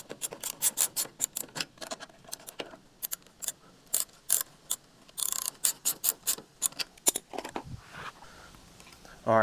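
A fitting on a trailer LED light is tightened with a ratchet, heard as bursts of close, crisp clicking strokes in a fairly regular rhythm, with short pauses between runs and no talking.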